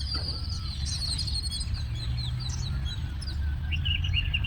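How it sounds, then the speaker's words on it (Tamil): Sparrows chirp in a village on a morning near harvested paddy fields, quick bright tweets scattered across the moment over a steady low rumble of background noise. "சிட்டுக்குருவி"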